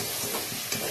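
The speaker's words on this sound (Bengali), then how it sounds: "মশলা টশলা সব দিয়ে কড়াইশুঁটি দিয়ে কষাচ্ছি।" Peas cooked with spices sizzle and scrape in a wok as they are stirred and fried, a brief, steady hiss with faint stirring scrapes close by.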